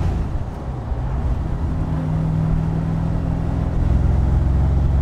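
A 1965 AC Cobra Mk III Superformance roadster cruising, its engine a steady, loud low rumble that builds slightly toward the end, with no talk.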